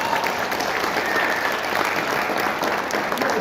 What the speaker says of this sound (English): let's give a round of applause to Christy for all the work she's done.